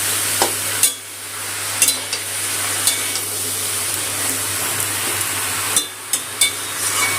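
Snake gourd frying in a pan with salt and turmeric gives a steady loud sizzle, and a spoon scrapes and stirs it every second or so. No one speaks.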